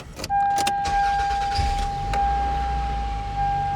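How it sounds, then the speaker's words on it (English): A 2001 Toyota Camry engine running at a high idle, a steady close engine hum with a sustained whine, after a few short clicks and rattles at the start. "Oh, it did have a high idle."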